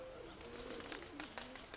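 Soft pigeon cooing repeats in a low, rolling murmur, with faint chirps and outdoor noise mixed in.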